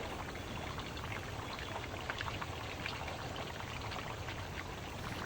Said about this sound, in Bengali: ভালোভাবে নেড়ে চেড়ে নিচ্ছি।